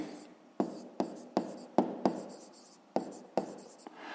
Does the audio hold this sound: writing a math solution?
yes